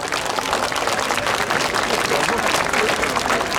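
An outdoor crowd at a Midsummer (Joninės) festival in Elektrėnai claps in loud, sustained applause, a dense patter of many hands with a murmur of voices underneath.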